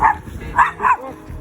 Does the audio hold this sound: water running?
no